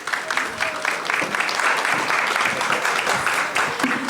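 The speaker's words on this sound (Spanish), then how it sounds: "Démosles un fuerte aplauso, por favor." Audience applause for panelists at the close of a business conference session, a dense sustained clapping that swells and stays loud and close, with a few scattered voices mixed in.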